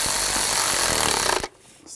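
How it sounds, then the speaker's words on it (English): A power tool whirs continuously while snugging down intake manifold bolts on a 2007-2013 BMW X5 3.0L inline-six, a close, rough grinding buzz that cuts off abruptly near the end. "And I'll snug these down."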